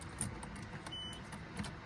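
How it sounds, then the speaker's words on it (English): A key jingles and clicks into the ignition of a Nissan Skyline R32 GTR, a few faint, brief metallic rattles close by in an otherwise quiet car. "let me throw the key in really quick"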